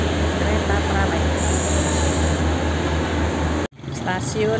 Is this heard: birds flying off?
no